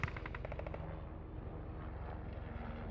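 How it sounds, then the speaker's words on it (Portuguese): Rapid automatic gunfire from a hand-controlled VR-style video game, a dense burst of shots at the start trailing into a steady rumble of game noise with no talk. "É do lado direito, né, Oza, que puxa o gatilho, né?"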